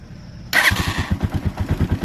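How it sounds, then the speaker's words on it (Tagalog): A motorcycle engine push-starts with a sharp catch, then settles into a steady, close, rhythmic idle with even low thumps. "Ganyan yung idle niya, hindi ko alam kung ito yung okay na idle ng aking motor."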